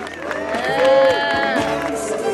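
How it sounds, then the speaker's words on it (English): Audience at a community hero awards ceremony in Fort Greene Park clapping and cheering as the board chair is welcomed to present an award, a steady wash of applause with whoops and a voice cutting through. "Please clap it up for Ms. Joy Lynn"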